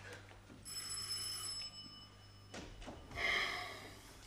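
An old telephone bell rings in an apartment interior in a 1975 Czech film, a steady metallic trill over low hum, followed by brief knocks and a short burst of noise near the end.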